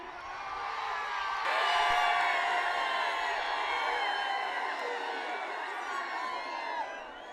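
A crowd cheers, whoops and shouts in celebration at a bull event, a loud, sustained roar of many voices that swells early and holds steady throughout.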